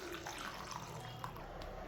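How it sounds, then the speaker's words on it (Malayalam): Water is poured into a cooking pot of rasam with a faint, steady splashing and trickling for a couple of seconds, quiet and close. "ഇനി നമുക്ക് ആവശ്യത്തിന് വെള്ളം ചേർക്കാം"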